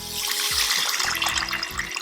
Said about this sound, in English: So now we're gonna add water.